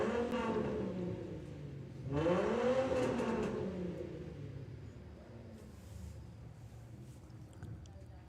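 A Mark II Escort drag racing car revs and accelerates at a drag strip, engine rising sharply then fading, with a race commentator talking over it throughout.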